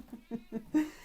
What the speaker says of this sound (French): Oui, il s'exprime énormément ce chat.